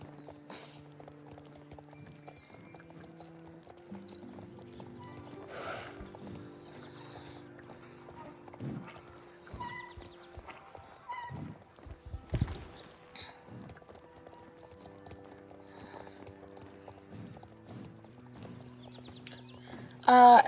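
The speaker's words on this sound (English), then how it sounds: "there's some of the Clydesdales that are over there." Clydesdale horses in the Star Stable Online video game, sparse hoof clip-clops and a few short whinnies over quiet ambient game music, with a louder burst at the very end.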